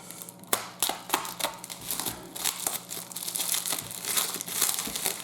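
Plastic packaging around small model paint pots is crinkled and torn open by hand, a close run of irregular crackling rustles and snaps.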